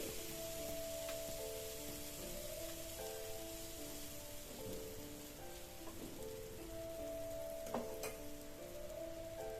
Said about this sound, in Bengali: এবার তাওয়ার উপরে এক হাতা ব্যাটার দিয়ে আলতো হাতে গোল করে ছড়িয়ে দেব